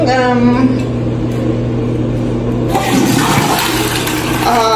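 Water runs steadily from a newly replaced faucet in a black-and-white house renovation, a continuous loud rush with a brief pause and restart, while a person talks over it.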